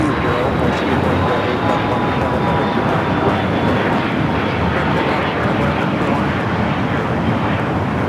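An airliner arriving at Los Angeles airport, a loud continuous broadband jet roar with a faint whining engine tone, steady for the whole stretch, with a voice talking over it.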